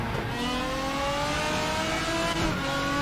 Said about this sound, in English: I hope you're just enjoying the sounds of these race cars, because they do sound fantastic in RaceRoom